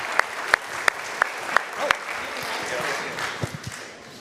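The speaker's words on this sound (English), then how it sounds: "So please, a big round of applause" Audience applause at a live onstage conversation with Minneapolis Mayor Jacob Frey and Nick Halter at the MinnPost Festival: several sharp, evenly spaced claps ring out over a steady wash of clapping from the crowd, which then fades under faint voices.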